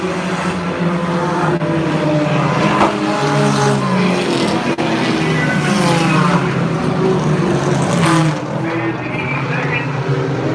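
Sprint cars roar around Unity Raceway behind a pickup truck pace vehicle during a SCoNE championship race, a constant loud engine drone with passing surges, under continuous announcer commentary.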